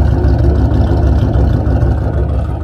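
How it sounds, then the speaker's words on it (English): A Ford Mustang with a straight-pipe exhaust, X-pipe and no mufflers or resonators rumbles loudly and close up in a deep, steady, throbbing tone for a few seconds. "it's a catalyst X-pipe, no resonators, no mufflers, so it is basically, you're one of the mill Mustang that's straight pipe"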